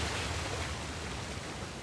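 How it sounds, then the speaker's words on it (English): A waterfall in the video game Uncharted: The Lost Legacy rushes as a steady, broad hiss of falling water, continuous and fairly soft, with no other sounds. "Another waterfall."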